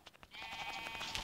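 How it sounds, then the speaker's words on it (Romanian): Sheep in Minecraft bleating several times, a short wavering animal cry repeated in quick succession, fairly close and alone with no talk over it. "Haideți să mânăm aceasta, oaie."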